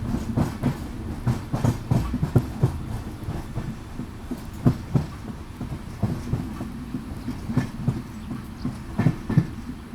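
Duronto Express premium train running on the Ernakulam to Mumbai LTT route, heard from inside a sleeper class coach: a steady rumble with regular clickety-clack wheel beats over rail joints.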